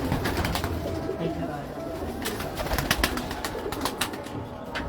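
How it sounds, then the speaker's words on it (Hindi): Pigeons on a rooftop breeding loft in Lahore keep up soft, steady cooing and rustling close by, with a few sharper clicks and flutters mixed into the busy outdoor background. "ज़बरदस्त कबूतर हैं।"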